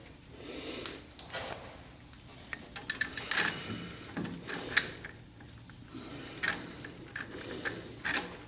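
A wrench ratchets a bolt tight while a half shaft is installed on a 1976 Corvette restomod. The metallic clicks are quiet and come in short, irregular bursts with small knocks and pauses between them.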